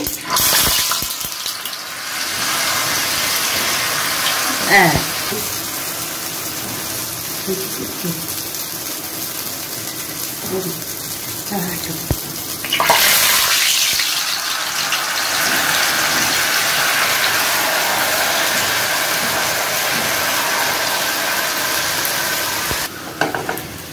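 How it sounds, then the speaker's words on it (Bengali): Jalebi batter fries in oil with a spoonful of ghee added, giving a loud, continuous close-up sizzle with scattered utensil clinks and a brighter surge of bubbling partway through. "এইবারে আমি কিভাবে ভাজি সেটা একটু দেখাচ্ছি"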